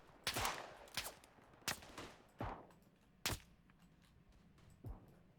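Rifle shots in the video game Tannenberg, six sharp cracks spaced about a second apart, fairly distant and moderate in volume over quiet background noise.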